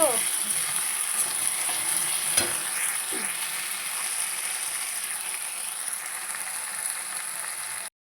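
Lote fish sizzling and frying in oily spice paste in a pan, a steady close hiss running the whole time with a few stirring knocks and no talk.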